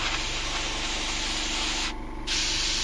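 An airbrush blasts clean air and solvent through its nozzle in a steady, loud hiss, dipping briefly before resuming, with no voices.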